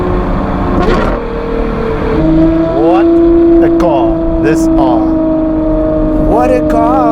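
The engine of a Novitec-tuned Ferrari 812 GTS with an N-Largo exhaust, a loud V12 drone with several quick rev blips and shifts, near and sustained while someone talks over it.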